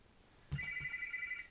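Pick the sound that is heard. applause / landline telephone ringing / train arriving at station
landline telephone ringing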